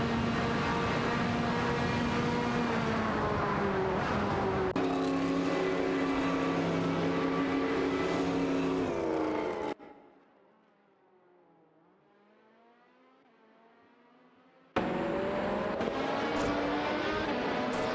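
Racing engines whine and rev in an AI-driven racing video game as cars trade positions, with shifting engine tones, a sudden cut to a quiet muffled stretch, then loud engine noise again.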